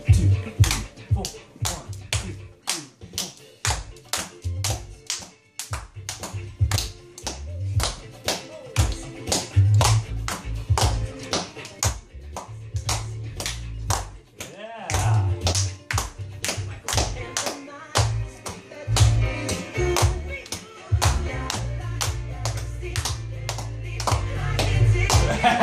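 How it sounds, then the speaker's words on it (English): Children and an adult clap their hands in a steady rhythm to a thumping dance beat, the claps sharp and repeated through the whole stretch over loud music at a home dance lesson. "How we clap our hands to the beat"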